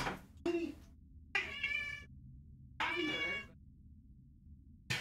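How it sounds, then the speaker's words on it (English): A cat meows insistently to be let inside, three loud drawn-out calls close by separated by brief silences, with a fourth cut off at the end. "The cat is quite eager to get inside."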